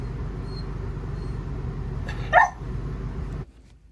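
A dog gives a single short bark in the morning, near and fairly loud, after a quiet stretch of low background rumble that then drops away.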